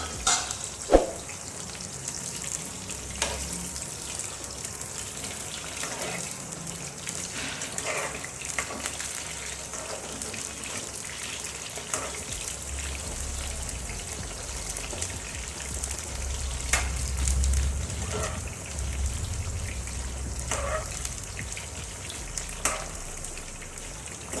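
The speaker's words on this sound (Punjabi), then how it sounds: "ਕਰੇਲਿਆਂ ਨੂੰ ਆਪਾਂ ਤਲ ਲਵਾਂਗੇ" Bitter gourds (karela), stuffed, fry in a pan with a soft, continuous sizzle and crackle, broken by occasional faint clinks and stirring knocks, with no speech.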